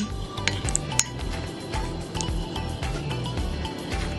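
A spoon stirs tablea champorado in a pot, giving soft irregular clinks and scrapes against the pot with a few sharper taps.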